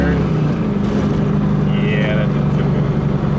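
An LS1 V8-swapped BMW Z3 with a T56 gearbox pulls in third gear, a steady loud engine drone heard from inside the car, with a voice talking over it.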